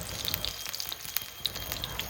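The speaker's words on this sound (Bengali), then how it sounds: "এখন আমি মিষ্টি কুমড়োর ফুলের বড়া ভাজছি।" Pumpkin flower fritters in a batter of gram flour, rice flour, salt, turmeric and black cumin fry in hot oil, giving a soft, steady sizzle sprinkled with small crackling pops, close and quiet with no talk.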